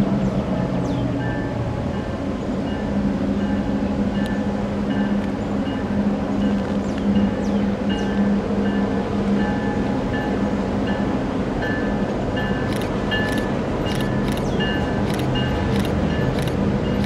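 A Kansas City Southern passenger train with its locomotives running, a steady loud rumble with low engine drone and faint rail clicks throughout, no voices.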